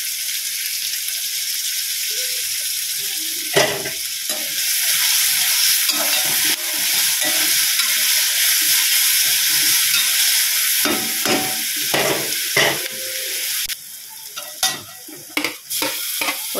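Ingredients for mutton biryani sautéing in a pan with salt being added, a steady broadband sizzle running throughout with repeated scraping stirs and clinks of a spoon against the pan, close and fairly loud.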